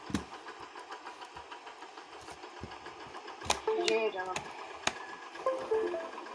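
A small tractor engine chugs and rattles at idle, a rapid steady knocking rhythm, with people talking over it partway through.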